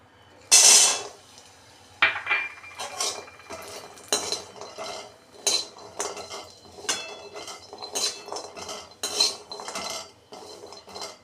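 Walnuts dry-roasting in a kadhai get stirred with a metal spatula, making sharp, irregular scrapes and clinks against the pan that come in close bursts with brief pauses.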